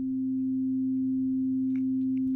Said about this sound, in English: The first basic shape is the sine wave shape.